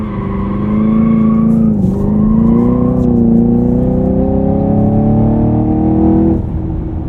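A Camaro SS 1LE pulls away hard in third gear on worn winter tires, the loud engine note climbing steadily for several seconds before easing off, up close with no talk.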